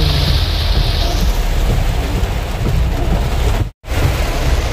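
A downpour of early-May rain hammers steadily nearby, loud and unbroken, with a brief cut to silence near the end before the roar resumes.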